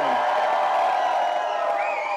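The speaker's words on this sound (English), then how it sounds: "let's give them a round of applause" Crowd at an annual charity cancer ride event cheering and whooping with steady applause, a dense, loud wash of voices and claps held throughout.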